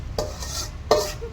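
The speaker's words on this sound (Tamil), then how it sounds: "மிளகு, வரமிளகாய், பட்டை, லவங்கம் இது எல்லாத்தையும் போட்டு வணக்கிக்கிட்டு இருக்காங்க." Black pepper, dried red chillies, cinnamon and cloves being dry-roasted in a clay pot, stirred with two close scraping strokes over a faint steady background, no voices.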